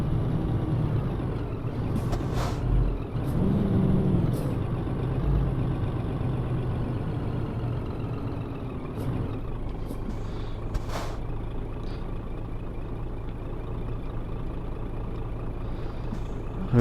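Truck driving slowly through a city in Euro Truck Simulator 2, a steady low engine drone with several sharp hissing air-brake bursts and a brief rising engine note, heard up close.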